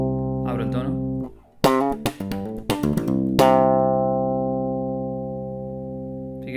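A Fender Jazz Bass with the tone knob fully open plays a short plucked and slapped phrase, a few quick notes followed by a long ringing note that decays slowly, bright and close with no voice over it.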